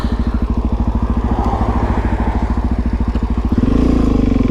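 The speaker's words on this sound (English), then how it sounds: "Wow, I have not wheelied in a while, I can tell." Suzuki DRZ dirt bike riding in wet, foggy rain, its single-cylinder engine pulsing in a fast, loud, steady thump close by, then rising in pitch as the throttle opens near the end.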